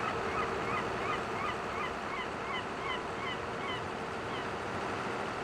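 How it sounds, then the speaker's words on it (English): Seagulls call repeatedly over a steady wash of wind and surf on a coastal Hallig Petrus map in Farming Simulator 22, their squawks fairly faint and distant. "The seagulls."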